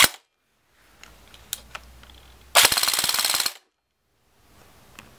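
A Mad Badger custom M16 airsoft gun fires a single rapid full-auto burst of about a second, close and loud, with a sharp crack at the start and scattered clicks of handling before and after.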